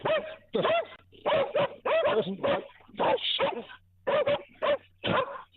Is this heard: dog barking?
yes